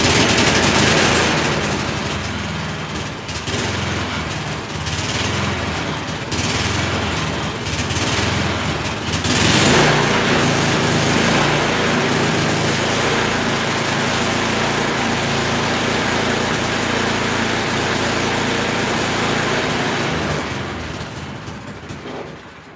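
Small engine, started with choke and throttle, running loudly and steadily with a rough, rapid chugging rattle that holds throughout and dips slightly near the end.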